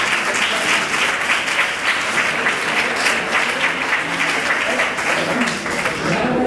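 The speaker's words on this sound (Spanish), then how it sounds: "Un fuerte aplauso para ellos," A crowd at an awards event in Salamanca claps steadily for organisers, a loud, sustained wash of dense applause that holds evenly throughout.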